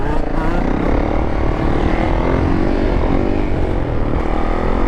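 A Yamaha YZ85 two-stroke dirt bike engine roars steadily and loudly close by in a busy lot, a continuous buzzing drone with no letup.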